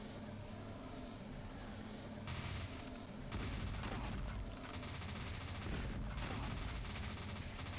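Machine gun and shotgun fire in the video game Akimbo Alpha: a dense, continuous barrage of rapid gunfire with heavier blasts mixed in, loud and sustained across the whole stretch.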